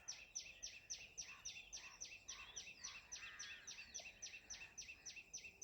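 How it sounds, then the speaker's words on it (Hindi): An unidentified bird with an odd voice calls from riverbank woodland at Dindori, giving a fast, evenly spaced series of sharp, high, clipped notes. The calls repeat steadily and fairly close, with no talking. "अजीब सी आवाज़ है इस पक्षी की।"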